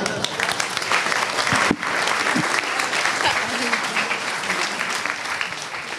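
An audience applauds after a presentation at a youth hackathon's closing session, dense sustained clapping filling the room with a brief dip partway through, and a voice speaks over it.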